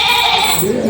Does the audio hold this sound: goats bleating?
yes